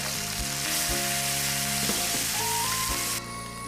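Small puthi fish coated in salt and turmeric sizzle steadily in hot mustard oil in a wok, a loud continuous crackling fry with a faint tonal background hum underneath.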